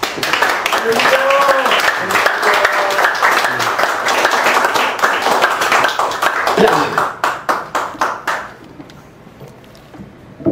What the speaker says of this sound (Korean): 뜨겁게 환영의 박수 드리겠습니다